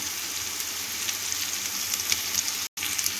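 Chicken curry fries in a pan as turmeric is mixed in, a steady close hiss of sizzling oil with faint stirring, interrupted by a brief dropout near the end.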